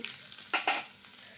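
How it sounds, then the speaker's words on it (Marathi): Mustard seeds and curry leaves crackle in very hot oil as a tempering for beetroot koshimbir, with two quick loud sizzling bursts over a faint steady fry. "आपली मोहरी तडतडली मी आता कढीपत्ता टाकते गॅस कमी करते तेल खूप गरम झालं"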